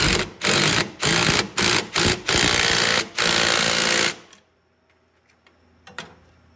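A 9/16 socket ratchet snugs up the nuts on 1Rig scratcher mounts for a Catalyst ZR 129. Several loud, close bursts of rapid clicking come in quick succession, followed by a few faint scattered ticks.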